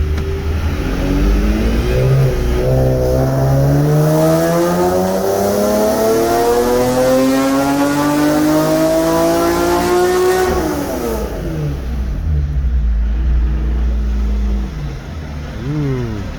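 A Nissan 370Z twin turbo with a Fast Intentions kit accelerates hard through the gears on a pull, its engine note climbing steadily and loudly before it drops off and settles, with some talk mixed in.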